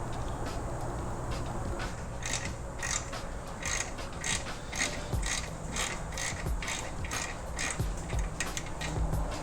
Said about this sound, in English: Right now I'm going to loosen these 9/16 muffler clamp bolts.